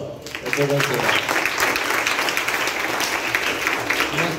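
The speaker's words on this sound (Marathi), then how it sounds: "शाबास, टाळ्या वाजवा." Schoolchildren at SM Vidyalaya in Kankavli burst into sustained, dense group applause, the clapping rising quickly after a short voice at the start and holding steady and loud throughout.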